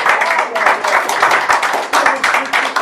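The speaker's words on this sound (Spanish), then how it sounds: "Un aplauso a Jesús" A church congregation claps and applauds vigorously during a worship service, with loud, close, rhythmic clapping surging in waves and voices mixed in.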